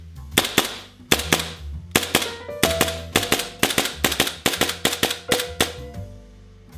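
A Tokyo Marui M45A1 gas blowback airsoft pistol fires about fifteen sharp, snappy shots with clacking slide cycles, delivered in quick pairs and bursts with short pauses, close and fairly loud, no talk.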